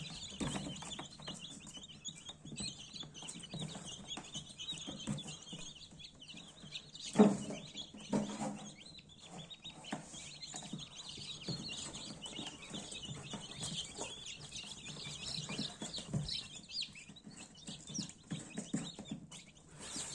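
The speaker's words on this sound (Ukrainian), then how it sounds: "Ось так проходить вилупляння курчат в наших інкубаторах" Newly hatching Black Copper Maran chicks in a Teplusha incubator peep thinly and steadily. The chirping is faint and continuous, broken by a few soft knocks.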